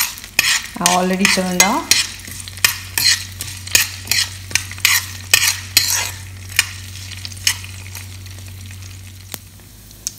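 Semi-fresh lentils browning in a pan, stirred by hand with a utensil, give a rhythmic series of sharp scrapes and clinks over a soft steady sizzle and low hum, with a brief spoken remark near the start.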